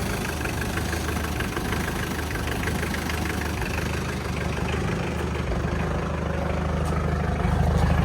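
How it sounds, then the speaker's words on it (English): A Toyota Hilux Surf diesel engine idles roughly on a cold start, a loud, close, continuous knocking rumble that holds steady throughout and swells slightly near the end. "It's a bit cold, so it's been running rough when cold starting."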